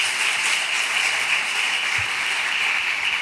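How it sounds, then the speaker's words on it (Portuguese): A church congregation at a regional worship gathering applauds: dense, steady clapping from a large crowd fills the whole stretch at an even, loud level, with no voice rising above it. "Vamos aplaudir a Jesus por essa palavra."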